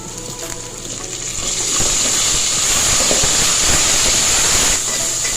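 Ginger garlic paste sautéing in a pan for veg biryani gives a steady, close sizzle and hiss that swells after a couple of seconds and holds, with no talking.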